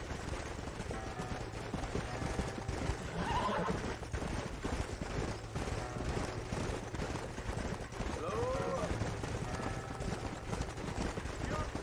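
Horses in the Red Dead Redemption video game whinny and snort while hooves clop, mixed over a continuous bed of game ambience and music, with a couple of distinct neighs standing out.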